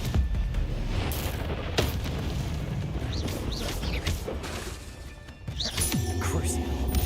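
Confringo blasting spell explosions in the video game Hogwarts Legacy, several loud crashing booms and whooshing impacts amid busy combat noise, with a voice talking over them.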